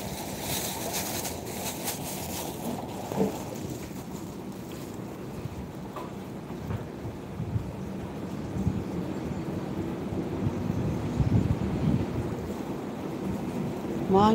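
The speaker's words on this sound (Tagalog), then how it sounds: "Mahangin siya." Wind blowing outdoors beside the water, a steady rough rush of noise buffeting the microphone for the whole stretch, with faint lapping and a brief human sound near the start and no clear words.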